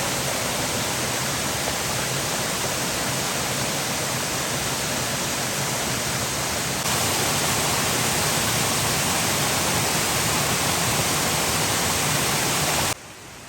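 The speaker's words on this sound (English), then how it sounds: "passing streams and waterfalls along the way." Steady, loud rushing of mountain streams and waterfalls along a steep path near an ancient Beijing temple, a continuous broadband roar with no voices.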